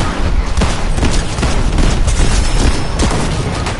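Rapid bursts of automatic gunfire from the Avatar mythic weapon in Fortnite, loud and dense with booming impacts, firing almost without pause throughout.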